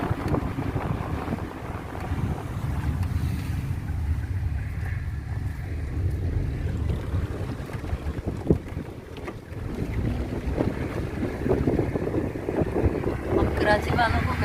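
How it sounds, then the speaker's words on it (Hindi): Strong wind rushes through the open side windows of a moving car near the sea, a loud buffeting roar that blusters over low engine and road rumble, with gusts rising and falling. "ज़बरदस्त हवा चल रही है, इसीलिए साइड विंडोज़ ओपन कर ली हैं"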